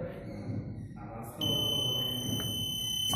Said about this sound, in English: a beep sound is there